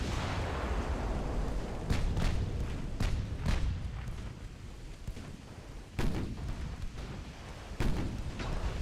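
Heavy battleship guns from the Ultimate Admiral Dreadnoughts naval game, set around 1908, fire in a string of loud, sharp blasts spaced a second or two apart over a continuous low rumble.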